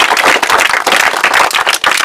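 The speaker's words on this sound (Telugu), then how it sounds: "వీళ్ళ కోసం కూడా చప్పట్లు కొట్టాలా మీరు." An audience claps loudly and steadily in a dense burst of applause, close and continuous for a couple of seconds with no speech.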